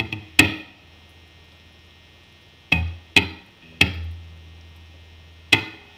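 Five sharp plucked electric guitar notes ring out through a Fender Frontman amp with reverb, each decaying with a reverberant tail over a low steady hum, spaced irregularly.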